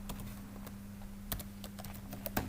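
Code is typed on a computer keyboard in a quiet room, with a few scattered, close key clicks at an uneven pace.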